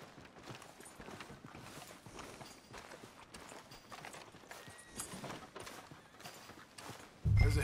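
Soft, irregular clip-clop of horse hooves walking in the Western game Red Dead Redemption 2, faint and somewhat distant, with a sudden louder noise burst at the very end.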